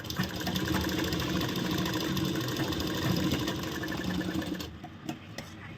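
A sewing machine stitches a ladies' shirt with a fast, rhythmic mechanical chatter and hum. It runs steadily and close for several seconds, then stops abruptly, leaving a few faint handling clicks.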